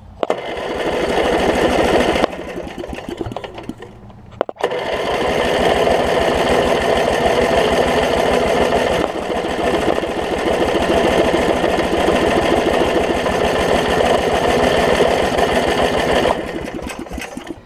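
The small engine of a Snapper RER riding mower, with a broken governor and water in the fuel, runs loud and close with a rapid, even chatter, dropping out briefly near the start before firing again and running steadily.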